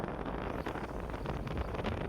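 Strong wind gusts blow across the microphone outdoors on a poultry house roof under construction, making a loud, steady rumbling roar with no voices.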